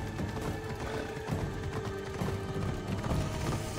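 Horse hooves clip-clop steadily at a brisk gait in Assassin's Creed Odyssey, a continuous close rhythm of hoof strikes with no talking.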